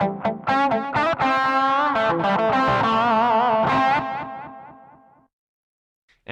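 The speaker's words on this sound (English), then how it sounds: "Actually, that echo sounds even better." An electric guitar played through the echo effect of a Zoom GFX 707 multi-effects unit: a run of picked notes with repeating echoes, then the sound trails off into a fading tail before near silence.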